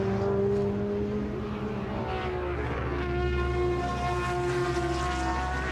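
A pair of Ford Capri RS 3.1 race cars passing at a Silverstone festival, their engines a sustained rich, harmonic roar that holds steady and rises slightly in pitch as they go by, loud and continuous.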